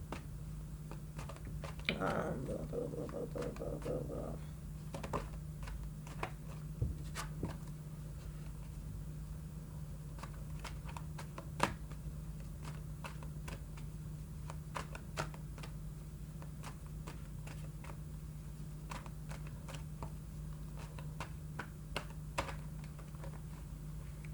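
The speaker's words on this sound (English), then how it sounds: "I'm shuffling for y'all." Tarot cards shuffled by hand close up, a long run of quiet irregular taps and riffles over a steady low hum, with a brief voice near the start.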